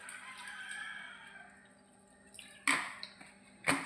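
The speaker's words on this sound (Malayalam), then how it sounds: "കുറച്ച് വെള്ളം ഒഴിച്ചു കൊടുക്കുക" Water poured into a pressure cooker holding chopped jackfruit seeds, a soft trickling stream near the microphone, followed by a couple of sharp clinks and knocks against the cooker.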